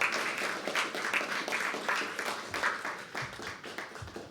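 An open mic poetry audience applauds a poet, a steady spread of clapping from many hands that holds at an even level, then thins into a few scattered claps toward the end.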